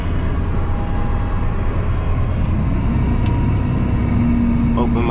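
A dump truck hauling recyclable concrete has its engine revved hard while the brake is held and the PTO is engaged, a loud, continuous, close-up roar that holds steady throughout.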